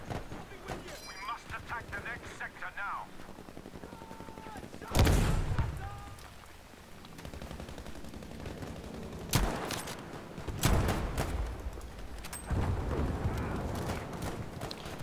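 Gunfire in the video game Battlefield V, with sharp, loud shots and booming blasts at intervals over a busy battlefield din, with intermittent talk.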